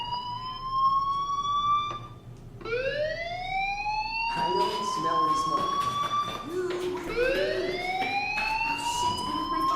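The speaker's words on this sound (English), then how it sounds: "Hey, do you hear that fire alarm? That means you should be outside." A fire alarm in the video game Life Is Strange, its rising electronic whoops repeating every couple of seconds, loud and insistent, while a voice talks over it.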